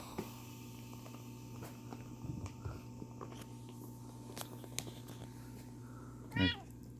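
A pet cat lets out one short meow late in a quiet indoor stretch, with a steady low hum and faint ticks and rustles before it.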